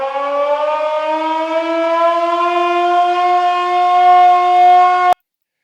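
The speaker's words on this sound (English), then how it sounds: "I heard the air raid siren" A wartime air raid siren of the Battle of Britain era wails as one long, loud, steady tone that rises slightly in pitch over about five seconds, then cuts off abruptly into silence.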